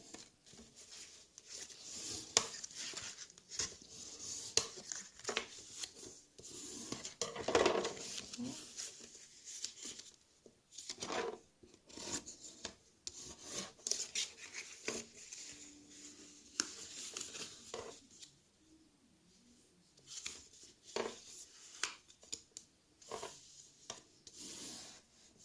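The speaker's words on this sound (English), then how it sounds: "I'm just going to grab my bone folder" A bone folder rubbing and creasing paper for a Santa's train papercraft, with faint irregular scraping strokes and soft rasping passes in bursts, close but quiet.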